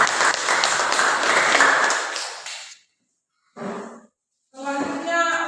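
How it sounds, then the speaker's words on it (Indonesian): Classroom group applauds after a student presentation, a loud burst of dense clapping that stops abruptly after under three seconds, followed by brief separate tonal sounds with silent gaps between them. "Sekali lagi tepuk tangan."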